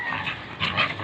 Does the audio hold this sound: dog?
yes